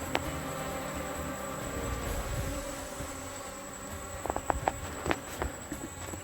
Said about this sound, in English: these bees doing wonderfully